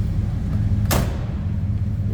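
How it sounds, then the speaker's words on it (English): A 1959 Ford Fairlane 500 Galaxie hardtop door swings shut with a single solid thud, loud and close, over a low steady rumble. "Door closes nicely"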